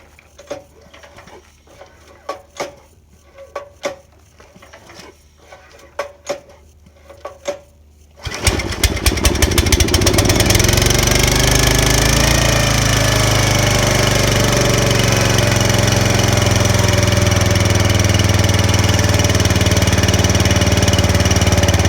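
A Huskee 35-ton log splitter's small engine is pulled over with a few sputtering, rhythmic cranking attempts, then catches and roars into a loud, steady run at partial throttle, close to the microphone and without talk.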